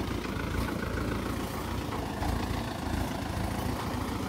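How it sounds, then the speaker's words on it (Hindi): A tractor engine rumbles steadily at a farm field as the tractor drives off, a continuous low, fairly loud drone with no speech over it. "अब जा रहा है ट्रैक्टर।"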